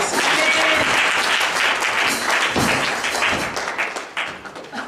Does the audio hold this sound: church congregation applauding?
yes